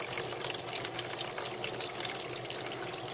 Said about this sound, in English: Water's still filling up.